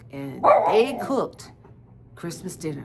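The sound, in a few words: dog barking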